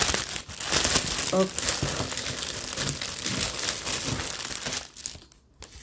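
Diamond painting kit packaging crinkling and rustling steadily as it is unwrapped by hand, close and fairly loud, with a voice speaking briefly over the crackle.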